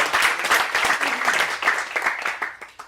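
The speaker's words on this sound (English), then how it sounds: "If you're going to give it applause," A church audience bursts into applause, a dense, lively clatter of many hands close by that gradually tapers off toward the end.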